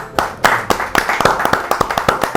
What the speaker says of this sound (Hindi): इनके लिए, इनके दोस्त के लिए तालियां जी